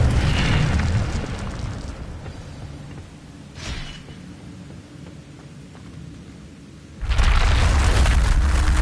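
Incendio fire spell from Hogwarts Legacy going off as a heavy rumbling blast, fading into a low roiling texture before a second loud burst erupts near the end.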